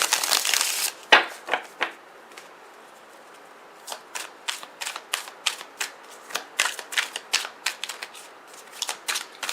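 Tarot cards being drawn and handled give a close, steady run of crisp snaps and flicks, with a dense riffle at the start and then irregular single clicks and paper rustles. No one speaks.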